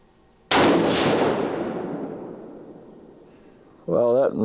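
A single loud rifle shot from a Winchester Model 70 firing .22-250 factory ammunition outdoors, a sharp crack followed by a long fading echo, with a voice starting just afterward.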